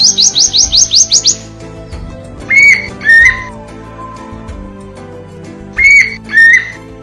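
Wild birds of the Sundarbans mangrove forest sing nearby: a rapid burst of rising whistled trills opens, followed by two pairs of clear, slurred whistles separated by quieter background chirping and calls.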